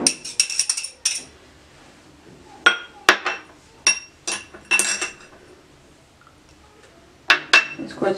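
A spoon clinks against a bowl while chicken marinade with vinegar and lime-yellow food colour is mixed, in scattered bursts of scraping and tapping with quiet gaps between.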